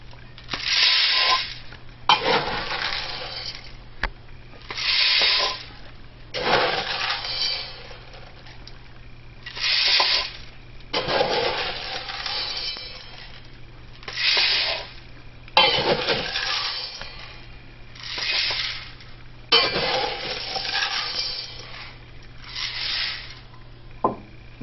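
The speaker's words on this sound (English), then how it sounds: "We're going to fill up the drum with 5 pounds of beans." Five pounds of Kenya AA single-origin coffee beans poured into a roaster drum in repeated rattling bursts, each a few seconds long with short pauses between, close and fairly loud, with no talking.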